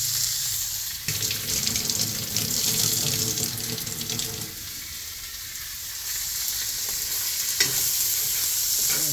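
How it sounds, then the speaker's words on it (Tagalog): Hands being washed under a running kitchen tap, a steady loud rush of water splashing into a sink for several seconds, shifting as the hands move through the stream. "hugas muna ako ng kamay"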